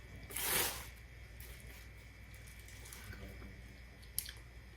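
Soft, close chewing of a first bite of buttered, sauced seafood during a mukbang, with wet squishy mouth sounds and a brief louder crunch near the start, otherwise quiet with no talk.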